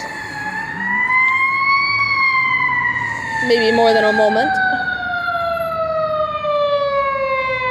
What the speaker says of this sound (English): it's a fire truck going by